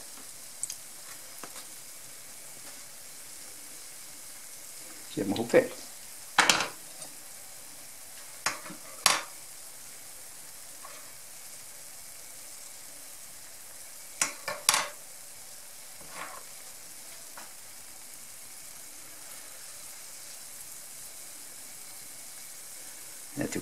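Fluffy pancakes fry gently over lowered heat in a pan, giving a faint steady sizzle. A few sharp utensil clinks and scrapes break through now and then, and a voice briefly speaks.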